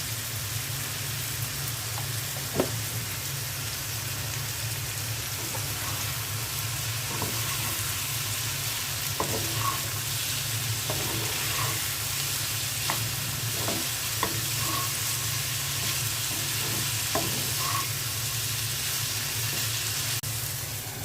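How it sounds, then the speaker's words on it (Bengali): Bitter gourd with turmeric and salt frying in a pan, a continuous even sizzle with a low steady hum beneath and scattered soft clicks of stirring, no voices. "করলা ভাজি বসিয়ে দিলাম"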